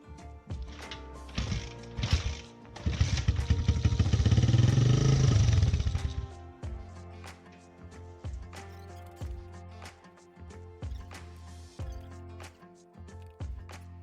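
A three-wheeler engine fires up with a loud, rough roar that swells for several seconds, then settles into a steady, lumpy idle with regular clattering beats, close by and heard without talk.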